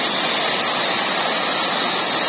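A waterfall at Mudi in Srin Valley, Mansehra, Pakistan roars loud and close as an unbroken wash of rushing water, steady throughout with no voices.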